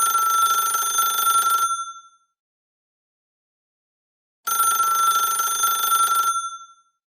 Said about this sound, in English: let's pick up the phone now and let's see who we can get on the phone